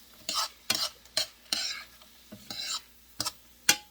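Rice for butternut squash risotto toasts in a pan, with repeated bursts of scraping, sizzling stirring separated by short quiet gaps, close and fairly soft.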